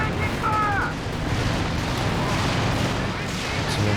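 Fuel cache blowing up in Company of Heroes 2 during a 2v2 battle: a sustained rumbling, booming explosion texture with crackling debris running through, heavy low end throughout, with voices faintly present.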